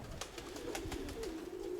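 A three-year-old pigeon coos nearby in a soft, low, wavering murmur, with a few faint clicks and flutters around it.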